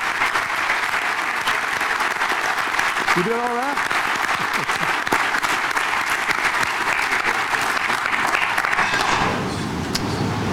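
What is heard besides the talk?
audience applause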